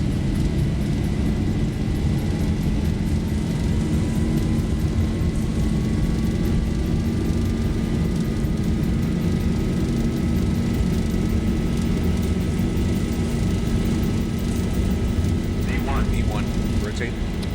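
Boeing 737-800 engines spooling at takeoff thrust in X-Plane 12, a loud continuous roar with a steady low drone and a slowly rising whine heard from the cockpit, a few faint clicks near the end.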